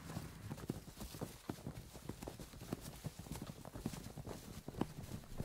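A horse ridden at a slow walk on a day trip to Shah Allah Ditta, its hooves clopping in a steady, even rhythm, quiet and close under constant outdoor noise.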